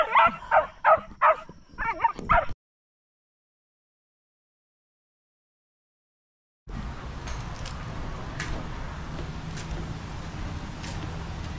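A dog barks several times in quick succession, close and loud, then the sound cuts to silence before a quieter outdoor background with faint clicks.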